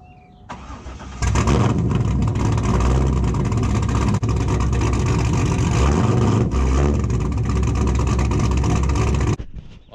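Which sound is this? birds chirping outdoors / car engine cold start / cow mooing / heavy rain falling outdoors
car engine cold start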